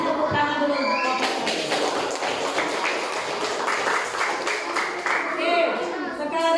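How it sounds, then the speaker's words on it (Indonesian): Children clap for a group in a classroom, a steady burst of many hands patting loosely together for several seconds amid chatter and noise from the room. "Kasih tepuk tangan dulu untuk kelompok"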